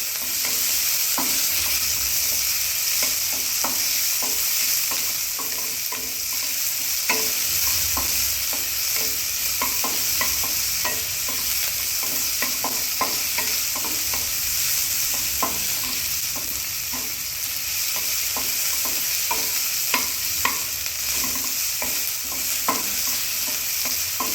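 Finely chopped capsicum and other vegetables fry in a pan for poha, a steady close sizzle with frequent scraping and stirring clicks of a spatula throughout, no voices.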